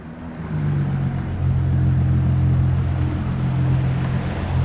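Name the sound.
other cars driving past in a racing video game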